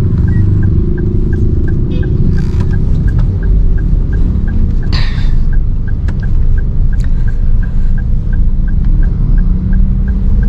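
A 2019 Toyota Rush TRD with automatic transmission drives through city streets in Malang, with a steady engine and road rumble from inside the cabin and a faint regular ticking throughout.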